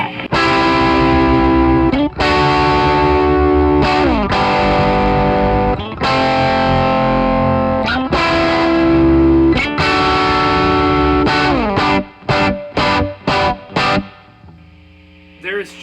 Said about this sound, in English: we're gonna turn the drive up to noon, and you can hear the gain. Noise floor raises.